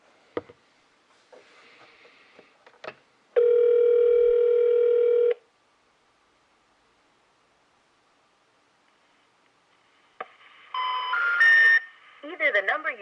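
A telephone call tone plays while dialing a number: a steady loud tone of about two seconds, then silence, then a burst of rising beeps and the start of a recorded message, with rustling and faint handling noise before the tone.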